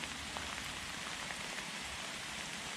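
Heavy rain pouring down under a pine tree in the woods, a dense steady patter of drops close by with scattered sharper drips, no talk.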